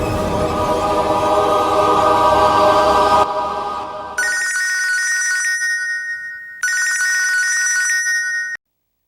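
A telephone rings in a Tamil TV drama scene, first under a dense musical bed, then alone in two loud electronic ringing bursts with a short silent gap between them, stopping abruptly.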